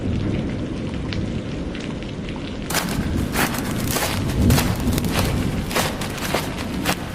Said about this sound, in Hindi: कितनी जोर की बारिश हो रही है 2 दिनों से।